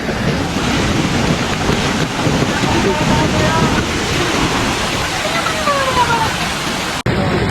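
Lingmala waterfall near Mahabaleshwar rushes in a constant broadband roar, with faint voices and wind buffeting the microphone before an abrupt cut near the end.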